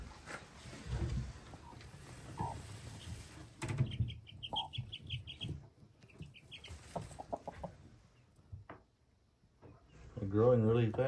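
A feisty hen clucking in a chicken house with nine small chicks beneath her, soft clucks and peeps interspersed with someone talking nearby, ending in louder agitated calls.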